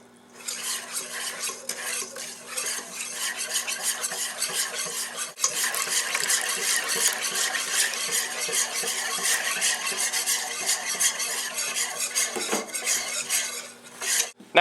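A whisk beats buttermilk into a French toast mixture in a bowl with steady, rapid clinking and scraping that runs close and continuous, without talk.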